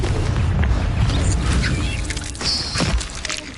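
A Confringo blasting spell explodes in Hogwarts Legacy: a loud, full booming blast with crackling debris and a bright sizzling burst partway through, heard alone.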